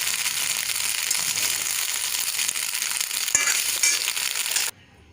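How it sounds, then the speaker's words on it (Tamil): Paneer cubes with pepper and salt fry in a hot pan, giving a steady, close, crackling sizzle that cuts off abruptly near the end. "கூடவே கொஞ்சம் மிளகுத்தூளும் கொஞ்சம் உப்பு சேர்ந்து ஃப்ரை பண்ணி எடுத்து வச்சுக்கலாம்"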